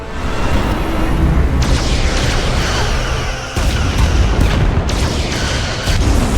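Starship weapons fire and explosions rage in the Star Trek Resurgence video game, loud continuous rumbling booms with sharp blasts breaking through the dense battle din.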